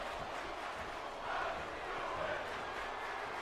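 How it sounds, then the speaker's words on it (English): A virtual arena crowd in the wrestling game WWE 2K18 chants together during a house show, a distant, rumbling wash of many voices that swells rhythmically in the middle and stays fairly faint. "That's what the crowd's chanting."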